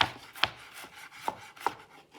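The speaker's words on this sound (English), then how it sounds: "you can just use that rocking chopping motion to chop through the onion" A kitchen knife chops through an onion on a cutting board with a rocking motion, giving several crisp, close knocks at uneven intervals with soft scraping between them.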